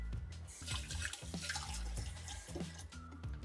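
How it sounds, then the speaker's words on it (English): Tap water runs into a kitchen sink while hands are rinsed, a steady splashing stream with small dripping and clattering accents, close by and continuous. "let me rinse off my hands first"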